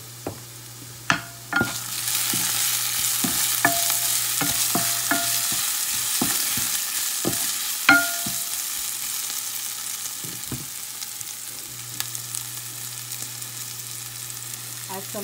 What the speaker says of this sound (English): Now add your onions and green chilli. Add some salt so that the onion gets cooked fast.